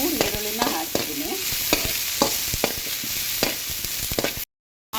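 Chopped onions with a few curry leaves sizzle and fry steadily in a pan for sambar, with repeated sharp stirring scrapes over a constant hiss, ending in a brief silence.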